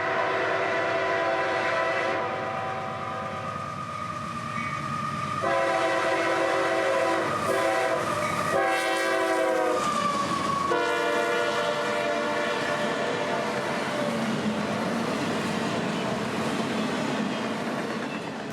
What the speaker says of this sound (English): trains like X441 can bank at track speed, screaming south with solid automobiles for Tampa